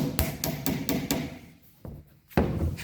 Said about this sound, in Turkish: En son zaten küçük çiviler kaldı. Çiviler ile monte ediyoruz bunu.